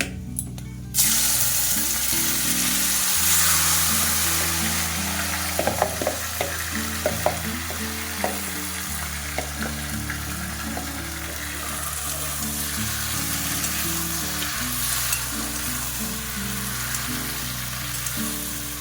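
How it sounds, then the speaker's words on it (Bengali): Spice paste of Kashmiri chilli powder sizzles and fries in a kadai for cabbage paturi while a spoon scrapes and stirs it, a steady loud crackle with clicks of the utensil throughout. "তো এভাবে আমি নাড়াচাড়া করে নেবো 2 মিনিটের মতো"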